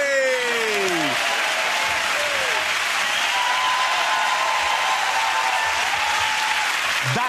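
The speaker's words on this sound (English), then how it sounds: "OK, give that round of applause for James," Sustained studio audience applause at the close of a comedy panel show, a loud continuous roar of clapping with a host's voice over the start and theme music tones running beneath.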